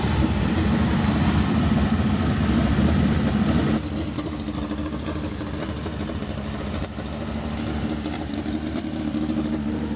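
USAC NOS Energy Drink midget race cars at Bloomington Speedway, a red clay dirt track, run their engines in a steady, loud drone during hot laps. The sound is heavier for the first four seconds and then settles into a slightly quieter sustained roar.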